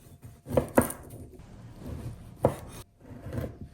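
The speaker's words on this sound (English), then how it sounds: "I'm gonna cut the salami into little cubes too" A knife chops salami into small cubes on a board, a few distinct sharp cuts with short pauses between them, close and fairly quiet.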